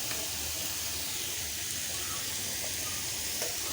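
Homemade tomato sauce going into a hot pan, giving a steady, dense sizzling hiss that stays even and unbroken throughout, close and moderately loud.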